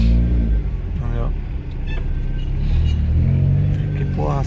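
A Volkswagen Gol G3 engine roars loudly and continuously from close range, with a deep, steady rumble that swells slightly while people talk over it.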